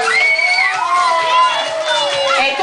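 Young children in a first-grade classroom cheer and shout excitedly, high overlapping voices squealing and calling out close by, with little clear clapping audible.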